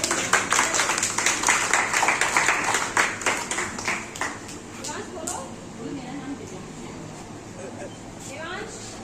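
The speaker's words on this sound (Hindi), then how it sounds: "तालियां बजा दो भाई दिव्यांश के लिए सब लोग।" An audience claps for Divyansh at a Teachers' Day celebration, steady applause ringing out for about four seconds and then tapering off beneath a voice speaking.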